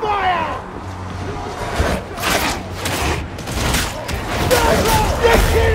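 Autogun Mk5 rapid fire in a horde shooter game, fought solo on Damnation difficulty: repeated bursts of loud, close shots and booms in a dense, chaotic stream, with shouting voices over the top.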